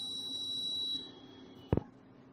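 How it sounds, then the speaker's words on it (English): A steady high electronic beep tone from the water sensor on an ultrasonic blind stick sounds for about a second, then stops, followed by a brief low thump. "the water sensor will give the beep sound"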